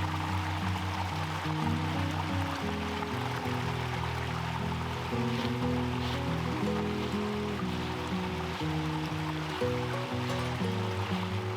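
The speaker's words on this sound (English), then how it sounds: "Take your time hiking along the rocky banks of the brook and enjoy the relaxing sounds of this beautiful woodland waterway." A brook flows over rocks through woodland, a steady, even rush of moving water with no breaks, heard alone without voices.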